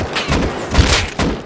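Gunfire from the survival video game Rust: a few muffled, booming shots in quick succession over a rough background rumble, fairly close and moderately loud, with no talking.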